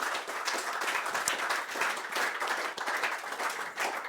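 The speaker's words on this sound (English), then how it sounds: "If you could join me in giving them a round of applause." An audience applauds a panel at the close of a discussion event, with a moderate, steady round of many hands clapping at mid distance, no talking over it.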